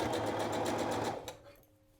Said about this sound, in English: we are basically wanting to sew right along this folded edge